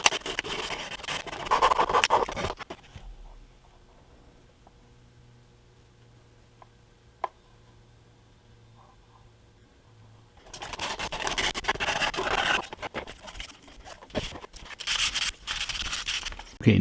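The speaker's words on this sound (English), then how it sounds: "take some sandpaper and sand this and kind of rough it up" An HO scale model kit part is roughened with 220 grit sandpaper in two bursts of brisk, close rubbing strokes, separated by a long quiet gap with one faint tick.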